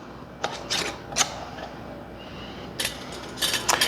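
A metal lid is screwed finger-tight onto a glass canning jar of tomatoes, making a few faint, brief scraping and ratcheting turns in short separate bursts against a quiet kitchen background.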